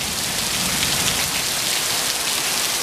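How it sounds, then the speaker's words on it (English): Steady rain pours down onto a street during the rainy season in Puerto Vallarta, a dense, continuous hiss of drops hitting the pavement, close and even throughout with no voices. "just a little bit of rain."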